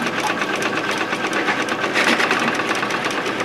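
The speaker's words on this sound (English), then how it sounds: "Hear the sucking noise? That means that you've run, you're out of solution, or your tube has come out." A pump sucks air after running out of solution or losing its tube, giving a rapid, rattling, pulsing churn that carries on steadily and loudly for several seconds with no talk.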